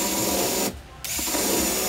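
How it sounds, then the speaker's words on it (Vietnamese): A power drill bores bolt holes into a boat frame, a loud continuous whine that cuts out briefly for a fraction of a second, then resumes. "khoan bốn cái lỗ đó phải đều nhau nha"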